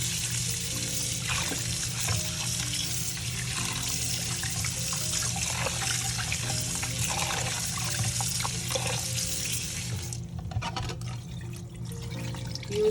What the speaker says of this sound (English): I'm just going to give that a wash. Rinse that off.